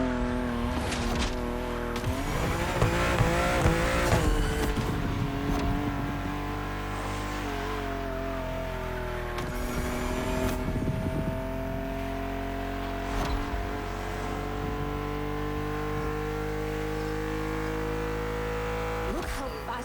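BMW M2 engine sound in a long race in The Crew Motorfest, a steady sustained drone throughout, with brief revving surges and tire noise early on and a voice talking over it.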